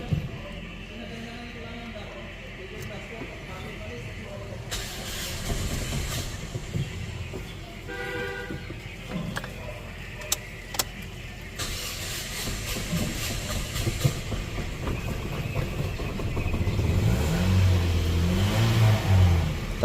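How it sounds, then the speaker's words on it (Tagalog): A Toyota Vios engine, just after throttle body and intake manifold cleaning, cranks and starts, then idles and revs upward with rising intensity, alongside a hiss and some speech. "I-start na po natin itong Toyota Vios ano"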